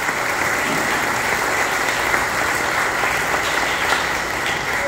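Congregation applauding during a Sunday Mass, dense continuous clapping from many people held at an even, loud level throughout with no voices over it.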